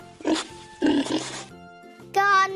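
A pig grunts and oinks in two bursts, then a higher squeal at the end. A voice in the clip may be imitating the pig.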